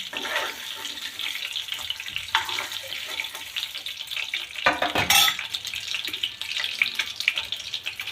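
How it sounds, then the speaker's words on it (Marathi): Spices roast in hot oil in the same pan where paneer was fried for restaurant-style mutter paneer, giving a steady close sizzle with stirring scrapes and a brief louder splutter midway. "यामध्येच बाकीचे मसाले त्या तेलामध्येच भाजून घेणार आहे आपण"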